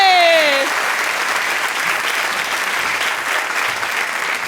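Loud, close audience applause greets a singer before she performs her song. A quick end of an announcer's voice gives way to a thick, sustained crowd clapping that holds steady throughout.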